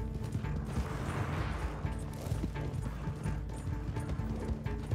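Horse hooves clopping steadily up a mountain trail in Red Dead Online, a continuous dense trot of hoofbeats over game ambience and background music, with no talk.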